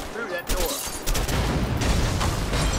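Rapid gunfire in the video game A Way Out as a player shoots at a barrel, loud bursts of shots starting about half a second in and a heavier boom near the one-second mark, continuing densely with faint voices underneath.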